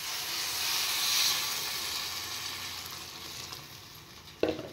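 Water poured into a pan of frying soybean chunks and potato curry sets off a loud, steady sizzle and hiss that slowly fades, ending in a sharp clink near the close.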